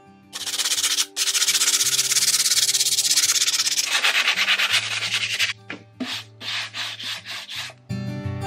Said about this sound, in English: Okay, so I'm just gonna sand it down a little bit.